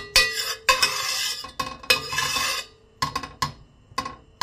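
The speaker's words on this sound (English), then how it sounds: "Melt the butter first." Butter is melted and stirred in a pan for panjiri, a spoon scraping and clattering against the metal in irregular bursts with short pauses between, close and fairly loud.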